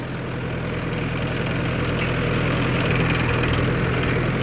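A Mahindra Yuvo 4WD tractor engine runs steadily while turning in a small, hard field, giving a constant loud mechanical drone with low rumble and no speech.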